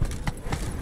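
The horse Roach trots in the Witcher 3 video game, a few quick hoof clip-clops in an even rhythm, close and clear over a low rumble.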